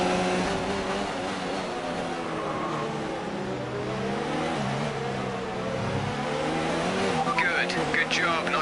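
A Formula 1 car in the F1 2019 racing game roars at high revs through an overtaking move around the outside, with a steady loud engine note and brief tire squeal near the end while a voice talks over it.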